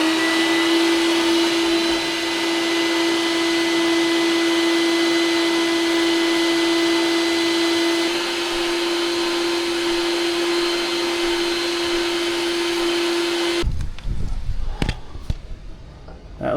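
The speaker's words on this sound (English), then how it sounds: "So I'm going to vacuum that out and get that cleaned up." A vacuum cleaner runs with a steady, loud whine and roar as it sucks ash and creosote out of a wood stove, then cuts off, leaving clattering and bumping sounds.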